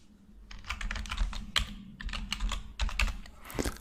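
Fingers typing a password on a computer keyboard during database connection setup, a close, steady run of quick clicking keystrokes in bursts with short pauses, no voices.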